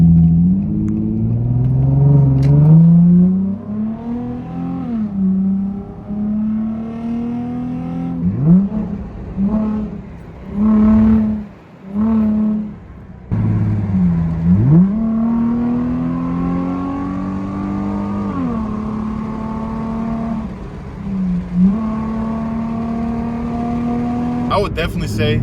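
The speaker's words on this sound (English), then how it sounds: "Well, let's accelerate here." A Nissan 350Z fitted with a cold air intake accelerates repeatedly, its engine note rising and falling through gears with rumbling revs and brief shift dips, heard from inside the car with speech also present.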